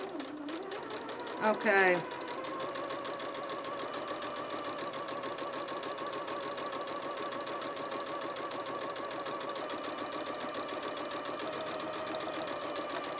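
Sewing machine stitching along the edge of a fabric coffee cup sleeve, running steadily and close for most of the stretch after a short spoken word and a brief handling noise near the start.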